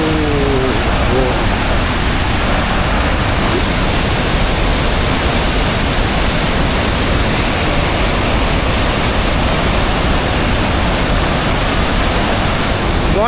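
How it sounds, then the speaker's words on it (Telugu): Athirappilly waterfall in Kerala with rainwater pouring from above, a dense, steady roar of falling water close by that never lets up, with faint voices briefly at the start. "పైన వర్షం పడి పైనుంచి వాటర్ అంతా కారి కిందకు వస్తుంది"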